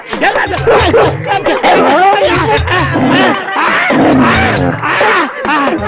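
Dogs bark and yelp repeatedly amid a babble of excited, overlapping Tamil-speaking voices, loud and close throughout.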